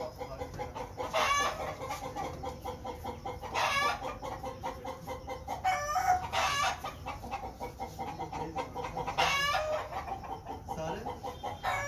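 Chickens on a farm during a Newcastle disease (Ranikhet) outbreak, clucking and calling repeatedly in rhythmic bursts, moderately near but fairly quiet overall, with a low background hum.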